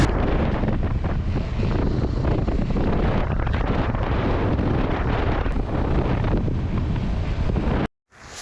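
Cold mountain wind at sub-zero temperatures batters a rider on a KTM 390 Adventure near Gurdongmar Lake, roaring steadily and loudly across the microphone until it cuts off abruptly at the end.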